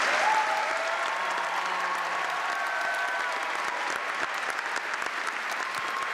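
Audience at the Scripps National Spelling Bee finals applauding and cheering, a sustained, loud wash of clapping and crowd noise across a large hall, with faint voices mixed in.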